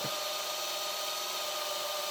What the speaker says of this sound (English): I just get a drill. I just sort of drill out